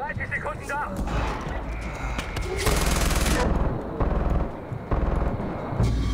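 StG assault rifle fire in Far Cry 4 crackles in rapid bursts against a dense, loud game soundscape, with someone talking over the shooting.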